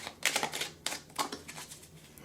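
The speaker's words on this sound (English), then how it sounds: "Let me go ahead and shuffle." Whispering Woods mini oracle cards are shuffled in short papery bursts, a few quick riffling clatters separated by pauses, close and fairly quiet with no talk.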